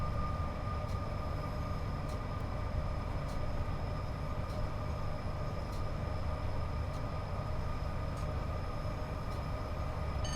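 A Class 87 electric locomotive in Train Sim World 5 runs on the West Coast Main Line at 60% throttle in snowy weather, giving a steady, even cab drone with faint periodic ticks and no talk.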